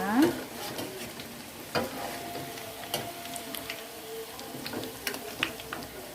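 Tempeh frying in a pan of oil for a tempeh stew, a steady soft sizzle with faint crackles and occasional sharper pops throughout, no voices.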